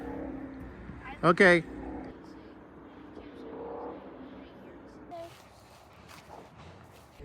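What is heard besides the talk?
freeway traffic noise next to campsite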